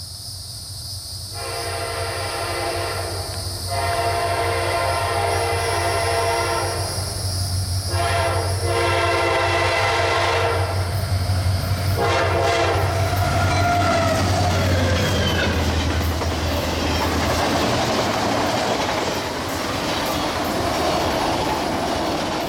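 A coal train locomotive passes close and loud, sounding a long horn in several sustained blasts, followed by the rumble and rattle of the passing railcars.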